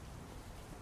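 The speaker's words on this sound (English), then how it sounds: "Oh, it's starting to rain and I don't have an umbrella." Steady rain falling in the life-simulation game Big Ambitions, a dense, even hiss of drops with a low rumble underneath, continuous and fairly loud across the short moment with no voices.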